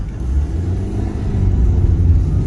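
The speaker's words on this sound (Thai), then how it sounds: "มาถนนใหญ่แล้วนะครับ ไปเลยครับ ออกตัวเกียร์หนึ่ง" A 1999 Honda City Type Z 1.5 EXi manual pulls away in first gear, its engine rumbling loud and close as revs build steadily, with no voices over it.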